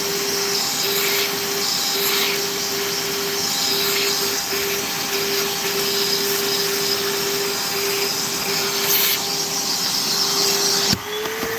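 Shop vacuum running steadily and loud while cleaning carbon chunks out of the head stud threads on a 1996-2005 Chevy Astro 4.3 engine block, with a constant whine and brief suction changes near the end.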